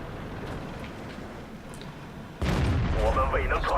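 Artillery fire support in World of Tanks, a low rumbling backdrop that jumps into a louder heavy boom partway through, with engine noise and chatter beneath.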